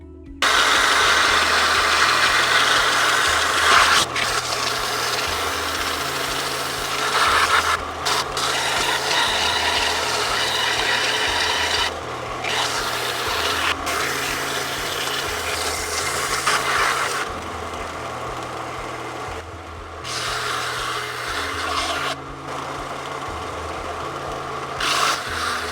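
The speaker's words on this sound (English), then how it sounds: "So now that you're ready to sand and shape, the point is to try to get a shape like this" Power sanding and shaping a wooden comb made from a skateboard deck: loud, continuous whirring motor grind with abrasive rasping, pitch shifting periodically as pressure changes, brief pauses between passes.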